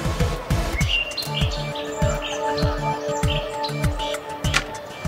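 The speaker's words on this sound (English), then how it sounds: "The elder bird, returning from the hunt, heard their cry." Shrill, repeated chirping of young birds, loud and continuous, with rapid overlapping calls over a steady background.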